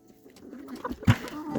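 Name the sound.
pet pigeons cooing after the rain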